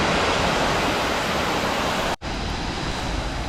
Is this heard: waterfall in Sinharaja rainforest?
yes